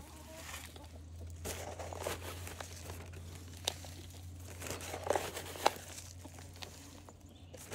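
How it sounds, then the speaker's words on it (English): Soft, quiet crinkling and scraping as loose soil is poured and shifted into a stacked Dollar Tree planter herb tower, with a few sharper rustles and a low steady hum beneath. "I'm just going to add some more soil in."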